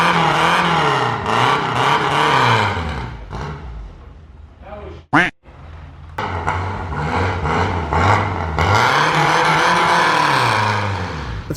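A KE25 Toyota Corolla being started in a garage during a custom dash build: the engine cranks, catches and revs up and down in repeated swells, loud and close, with a brief break before the idle and revving resume.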